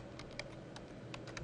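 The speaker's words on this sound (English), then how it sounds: "I'm going to type in" Several quick keystrokes on a computer keyboard, a short burst of close, crisp taps over a steady low hum.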